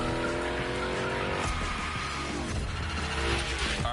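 Hoonicorn car in a video game sliding through gymkhana turns, a loud continuous engine roar with tire squeal and skidding noise throughout.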